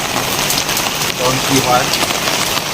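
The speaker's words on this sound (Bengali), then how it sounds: "বৃষ্টি শুরু হয়ে গেছে এখন" Heavy rain falls steadily during a puja, a dense close hiss of drops on surfaces that fills the whole stretch while a voice speaks briefly underneath.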